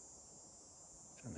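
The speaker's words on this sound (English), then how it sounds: "It's one of those sounds of insects that seems to indicate that we're entering into the latter end of summer." Insects buzzing in late summer along a forest trail, a steady high-pitched drone like a distant buzzsaw running throughout, faint, with a brief rustle near the end.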